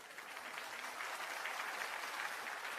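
Audience applause at a public meeting: a soft, distant, steady patter of many hands clapping that swells slightly halfway through and carries on to the end.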